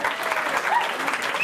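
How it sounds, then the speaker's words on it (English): An audience applauds a DJ at a live Bollywood evening show in Edinburgh, with steady dense clapping from a crowd held at an even level, and a few faint voices mixed in. "A round of applause for our DJ."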